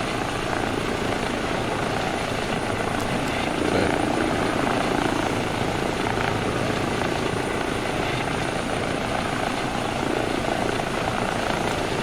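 Simulated Eurocopter EC135 helicopter in flight over a tropical island in a flight simulator, a constant close rotor and turbine roar with steady whine, unbroken and even throughout.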